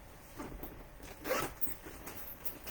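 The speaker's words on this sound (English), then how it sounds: "And you've got a zipper right here." A zipper on a bag being pulled open in a few short rasping strokes, close and fairly quiet, with one louder pull in the middle and no talking.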